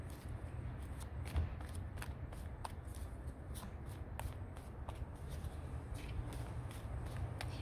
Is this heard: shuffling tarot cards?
yes